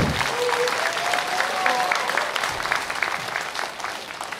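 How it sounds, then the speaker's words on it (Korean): Warm audience applause welcoming a guest lecturer at a People Power Party members' rally and workshop in Yangsan, steady dense clapping from a crowd that holds strongly and tapers slightly toward the end. "뜨거운 박수로 환영해 주십시오"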